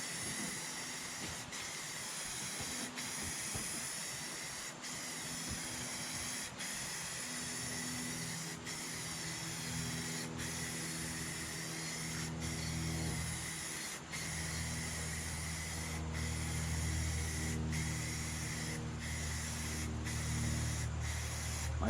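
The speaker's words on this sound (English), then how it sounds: "Do it a little bit further away so that the spray spreads into the covered areas." Rust-Oleum gloss red spray paint hissing from an aerosol can onto a Craftsman LT2000 lawn tractor, a long steady close spray broken by brief regular pauses between sweeping passes.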